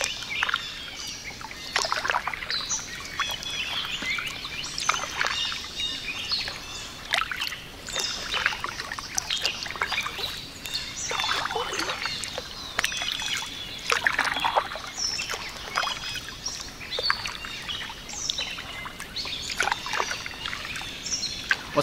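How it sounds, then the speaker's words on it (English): Birds chirp and call repeatedly in the early morning during a kayak trip, over a steady outdoor wash of water and rustling, with scattered bright calls throughout. "You can hear the birds singing out here"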